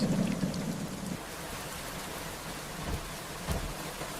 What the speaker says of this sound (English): Rain shimmered across the glass.